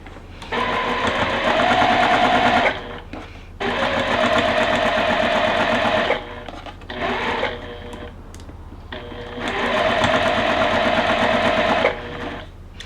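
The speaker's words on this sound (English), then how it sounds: "Now we're going to stitch again from corner to corner." A sewing machine stitches a scrappy criss-cross star quilt block from corner to corner, running in three loud, steady bursts of a few seconds each with short pauses between them.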